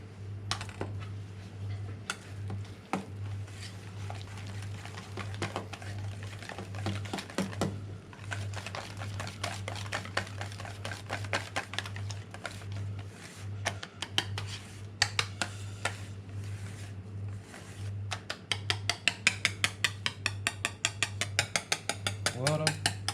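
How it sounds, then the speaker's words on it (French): Mascarpone is stirred into cream in a bowl, with close, irregular clinking and scraping of a utensil against the bowl, quickening into a rapid rhythmic whisking at the end. "Et je vais mélanger le mascarpone"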